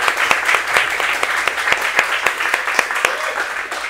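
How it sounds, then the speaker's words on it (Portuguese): An audience at a workshop applauds, producing a loud, sustained burst of many hands clapping with distinct sharp claps standing out. "Palmas pra ele."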